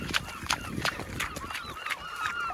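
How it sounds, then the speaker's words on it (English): Geese honk repeatedly over Dublin Bay at low tide, a string of nasal calls coming every half second or so, moderately close over a soft ambient wash. "And the birds are loving it"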